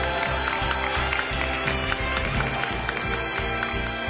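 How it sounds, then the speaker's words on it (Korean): Audience applause in a hall at a Korean esports national team selection ceremony, steady crowd clapping blended with loud rhythmic background music throughout. "감사의 박수를 부탁드립니다."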